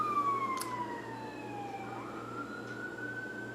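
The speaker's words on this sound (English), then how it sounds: "I apologize for that siren." A wailing siren sweeps up and down in pitch outside, moderately distant and steady, over a low background hum with no talking.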